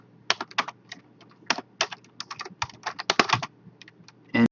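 C++ code being typed on a computer keyboard, quick irregular bursts of close, crisp key clicks with short pauses between runs and a louder clack right at the end.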